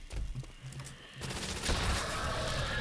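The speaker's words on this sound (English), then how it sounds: "I shot my Wonderwaff and it didn't do anything" A Wunderwaffe shot in Call of Duty: World at War zombies, a crackling electric burst that swells into a dense, sustained noisy blast, fairly loud and close, alone without talk.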